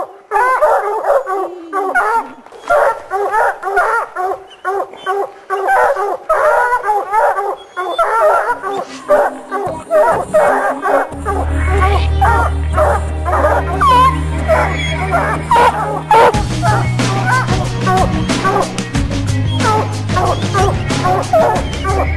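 Several mountain lion hunting dogs bark, yip and whimper excitedly nearby in Montana while people talk; a low engine rumble joins partway through.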